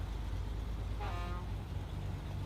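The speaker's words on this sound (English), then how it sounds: "I think I finally learned through the SnowRunner subreddit what this horn is meant for" A truck horn in the SnowRunner video game gives a short tonal honk near the middle, sounding over a steady low engine rumble.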